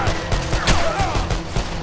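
Gunfire in the video game Call of Juarez: The Cartel, a short stretch of rapid, loud shots and impacts against a busy background.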